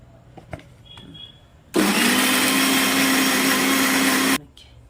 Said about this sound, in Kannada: ಒಂದು ರೌಂಡ್ ಮತ್ತೆ ಮಿಕ್ಸಿ ಮಾಡ್ಕೊಳ್ಳೋಣ